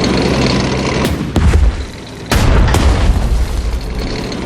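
Tank cannon fire and explosions in the war strategy game Strategic Mind, two heavy booms with rumbling tails spaced about a second apart, loud and close over a constant battle din.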